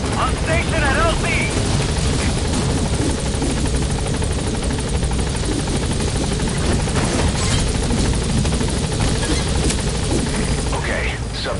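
Military helicopter in Metal Gear Solid V: The Phantom Pain, a loud, steady rotor drone with engine whine running the whole time, close and constant, with faint scattered gunfire-like pops underneath.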